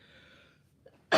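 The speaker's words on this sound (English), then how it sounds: "I got to sneeze, y'all." A single short, sharp sneeze bursts out at the end after a moment of near silence and a faint intake of breath.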